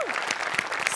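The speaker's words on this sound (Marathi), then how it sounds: "तर त्यांच्यासाठी एकदा जोरदार टाळ्या." A theatre audience claps for a comedy skit, a brief, dense burst of applause close and steady throughout.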